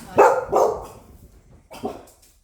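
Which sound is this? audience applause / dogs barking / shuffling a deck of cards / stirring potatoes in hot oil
dogs barking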